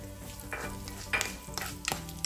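Urad dal, dried red chilies and curry leaves fry in hot oil for a tadka, giving a steady close sizzle with a few sharper crackles and pops and a light stir or two, no voices.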